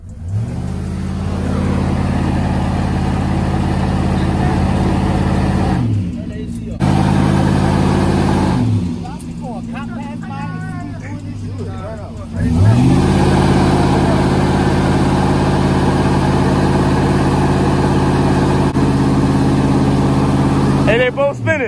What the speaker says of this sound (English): Come do a burnout!